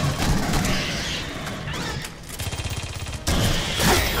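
Rapid, loud gunfire bursts from the sci-fi shooter Aliens: Colonial Marines, with a pulsing stretch of repeated shots, a brief lull and another harsh burst near the end.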